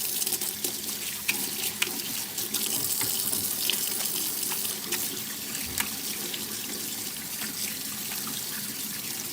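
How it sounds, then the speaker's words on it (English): A kitchen tap runs steadily while hands are washed clean of butter during biscuit making, a continuous close splashing stream with small bursts of spatter, no voices. "Just washing my hands off"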